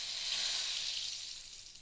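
A bay leaf dropped into hot oil gives a short, bright sizzling hiss, close and fairly soft, fading slightly over two seconds.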